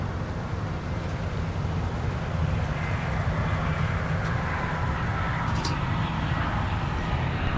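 A United Airlines Airbus A319 from San Francisco lands at Minneapolis in winter, giving a continuous low jet roar that swells slightly as it nears, steady and unbroken with no voices.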